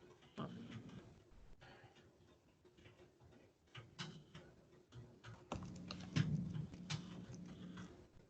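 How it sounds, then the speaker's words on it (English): Soft, uneven keystrokes tap on a computer keyboard, quiet and close, in irregular bursts with short pauses and a faint steady hum underneath. "I want to type this out."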